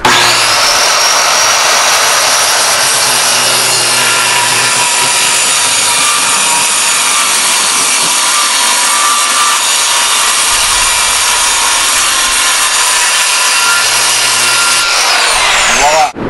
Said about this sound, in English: I've just completed drilling my hole on this set, or this side right here